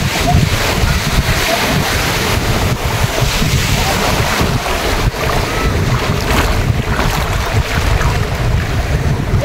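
Ocean waves roll at the shore under strong wind buffeting the microphone, a loud, constant roar of surf without clear breaks.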